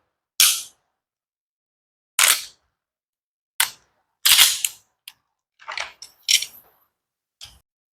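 A Sig P211 GTO competition pistol fires about ten sharp, loud, close shots at irregular intervals, some in quick pairs and some spaced by pauses, with silence between reports.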